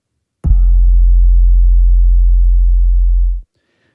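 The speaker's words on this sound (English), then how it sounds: "Great sounding 808. Let's listen to the second one." A deep 808 bass note from Ableton with a strong sub and a faint upper harmonic, sustained alone for about three seconds, then cut off sharply.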